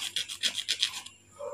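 A hand saw cuts a groove into a hard pink lotus seed with quick, rhythmic rasping strokes, about eight close scrapes that stop abruptly near the end, with no talking.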